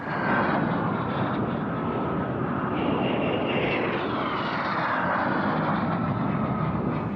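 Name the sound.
L-39 jet trainer aircraft flying at an airshow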